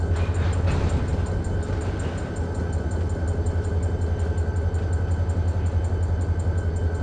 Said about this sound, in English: locomotive should be pushing in